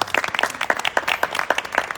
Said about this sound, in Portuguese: vamos bater palmas para a Úrsula também